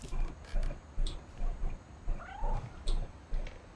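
A cat from the video game What Remains of Edith Finch meows a few times, short mid-pitched calls over a busy game soundscape with soft rhythmic thumps.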